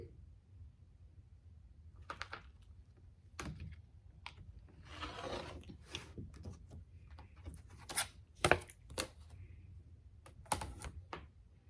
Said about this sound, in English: So first I'm going to cut off this selvage edge to get us a nice straight line going.